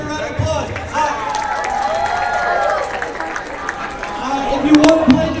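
Audience applause at a TwitchCon 2025 event, a broad steady wash of clapping and crowd noise with some cheering, swelling near the end.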